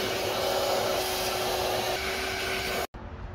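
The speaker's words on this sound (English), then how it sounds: "great opportunity to vacuum this thing" Inside a car, a vacuum cleaner runs with a loud, steady whooshing drone and a thin tonal whine before cutting out abruptly near the end. A fainter hum carries on after it stops, and no one speaks.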